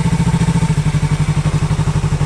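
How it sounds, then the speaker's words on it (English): Yamaha R3 motorcycle engine idling steadily in neutral, a close, loud, even low throb with rapid regular pulses and no voices. "See how the idle drops when it's in neutral?"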